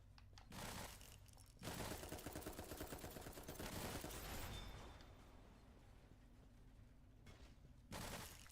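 Rapid gunfire bursts from weapons in the video game Dolls Nest, several sustained rattling volleys separated by short pauses, loud and close with no talk over them.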